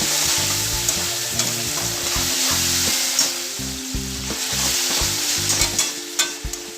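Bitter melon and beef in black bean sauce frying in a hot pan, a loud continuous sizzle with repeated clattering stirs and scrapes of the utensil against the pan.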